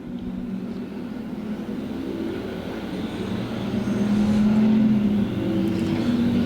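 IMCA Hobby Stock race cars at Thunder Hill Speedway send up a steady, dense engine drone that swells louder toward the end as the pack roars by, with no voices over it.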